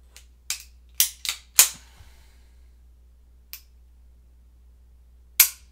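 A Beretta 85BB Guardia di Finanza pistol gives sharp, dry clicks as its trigger resets, a cluster of five close together, then one isolated click and a final one after a pause, crisp and near.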